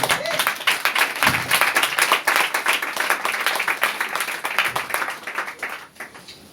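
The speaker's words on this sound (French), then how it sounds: "Est-ce qu'on peut acclamer le Seigneur bien-aimé?" A church congregation applauds in steady, dense clapping that carries on for several seconds, loud and close, with a voice faintly heard over it at the start.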